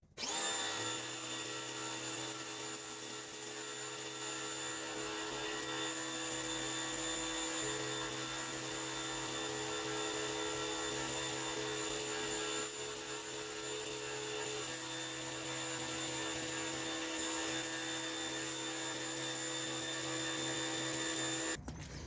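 A Craftsman 1700 PSI electric pressure washer sprays through a turbo tip, its motor and water jet making a loud, steady droning hiss with a constant tonal hum that runs unbroken for about twenty seconds.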